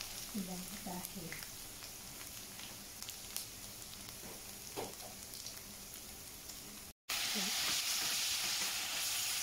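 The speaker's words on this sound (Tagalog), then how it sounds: "lagyan na natin yung ating bawang dito sa ating kawali." Garlic frying in a pan, a continuous hiss-like sizzle that stays steady and fairly loud and briefly cuts out before rising again, with faint talk underneath at the start.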